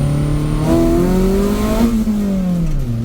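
A modified Maruti Zen Carbon revs its engine, pitch climbing and falling in a continuous, loud, close drone with no talk over it.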